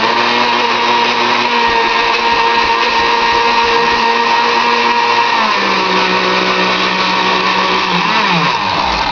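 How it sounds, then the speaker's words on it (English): A loud, continuous motor whine from a blender running during cleanup after processing horseradish, its pitch sliding downward near the end as it winds down, with no voices. "And this is cleaning the blender"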